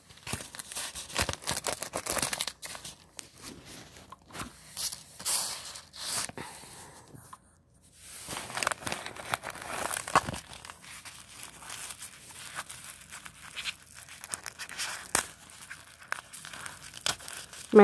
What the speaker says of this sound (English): so I'm gonna go ahead and rip up everything.